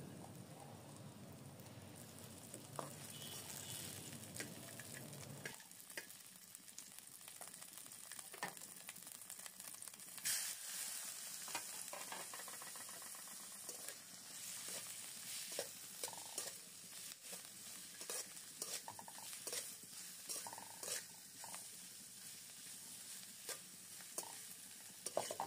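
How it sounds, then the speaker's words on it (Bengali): Shrimp fry lightly in a pan, giving a soft steady sizzle with scattered crackles and occasional stirring scrapes, fairly quiet and close with no talking. "চিংড়ি মাছটাকে হালকা করে ভেজে নেব।"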